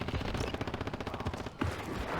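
Rapid automatic gunfire in the video game Warzone, a steady stream of close, crisp shots fired in quick succession with a brief gap near the end before firing resumes.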